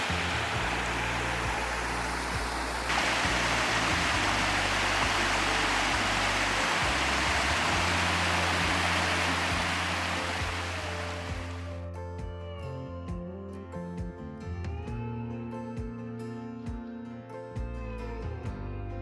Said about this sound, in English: the gorgeous sound of a waterfall to lull you to sleep